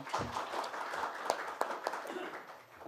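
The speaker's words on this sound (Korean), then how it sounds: "박수로 환영해 주십시오." Brief applause from an academic conference audience welcoming a presenter, fairly quiet scattered clapping with a few sharper claps, lasting under three seconds.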